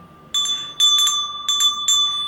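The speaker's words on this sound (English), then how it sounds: "let's just ring the bell to change of subject." A small bell rings four times in quick, clear strikes with a sustained shimmering tone between them. It is close and bright in an otherwise quiet room.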